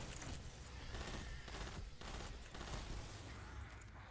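Gunfire in the video game Destiny 2 during a Lost Sector run, a steady dense rattle of shots with a few brief gaps, loud and continuous, with no talk.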